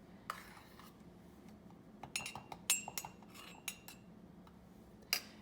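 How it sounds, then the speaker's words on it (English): Spoonfuls of creamy tiramisu mixture going into a coffee mug, heard as a quiet run of small clinks and taps of a spoon against the mug, scattered irregularly and close up. "spoon in some of your creamy mixture"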